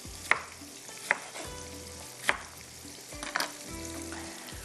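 Eggplant and tomato pieces sizzling in a pan for baingan masala, a soft steady frying hiss broken by several sharp clinks of a spatula stirring against the pan.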